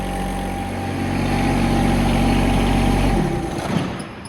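A John Deere X750 lawn tractor engine runs steadily and loud at close range, its idle hum shifting down in pitch about three seconds in, then continuing alone with no talk.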